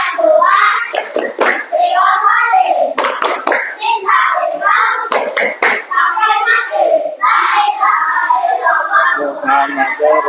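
A class of children chants together in a classroom, punctuating the verse with short bursts of quick group hand claps that rise over the steady, loud chanting voices.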